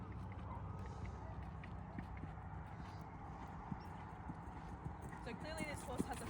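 Horse cantering on the lunge during a lesson, its hooves thudding in a steady rhythmic clip-clop under continuous outdoor background noise, with a few brief squeaky sounds near the end.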